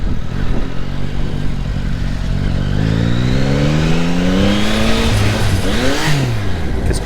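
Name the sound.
Yamaha MT-09 motorcycle riding on cobblestones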